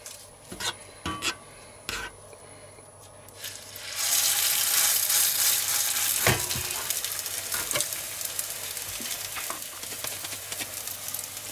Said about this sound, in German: eine Fischfrikadelle nach der anderen, handgeformt, in die Pfanne und da braten wir sie ordentlich raus